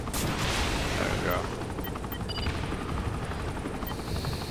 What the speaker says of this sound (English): Helicopter's even higher above now